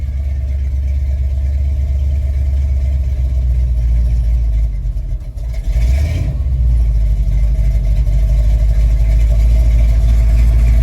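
A lowered Chevrolet C10 pickup engine runs steadily after a fuel delivery repair, a loud, close, even idle rumble that stays constant apart from a brief dip and stumble around the middle.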